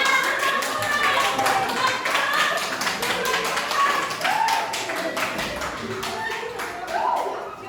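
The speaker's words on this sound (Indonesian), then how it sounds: "kita berikan tepuk tangan untuk kalian semua" A group in a classroom or training session claps steadily for several seconds, a dense patter of hands with scattered voices and shouts mixed through it.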